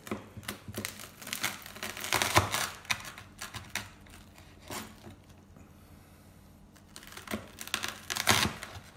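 Crisp crackling crunches come in irregular bursts as a knife saws through the crackly skin of roast pork belly, cut from the underside, close up and fairly quiet, with no talking.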